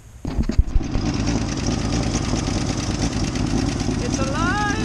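Land Rover Series 2A engine cranking and catching, then settling into a steady loud rumbling idle close by, with a few knocks at the start and a voice briefly heard near the end.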